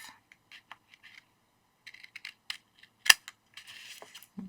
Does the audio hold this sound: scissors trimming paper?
yes